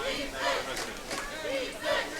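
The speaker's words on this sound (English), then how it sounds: "Crowd chanting defense" Spectators at a men's college water polo match between Pacific and UC Irvine chant defense in a rhythmic, rising and falling crowd roar, with voices mixed through the noise.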